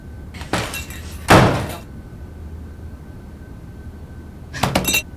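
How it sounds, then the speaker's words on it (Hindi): Banging on a door indoors in a crime drama: a couple of heavy thuds, a pause, then another burst of knocks, close and loud with no speech. "अरमान दरवाजा खोलो"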